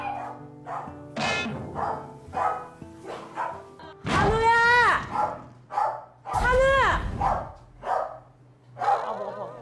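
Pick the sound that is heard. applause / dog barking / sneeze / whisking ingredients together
dog barking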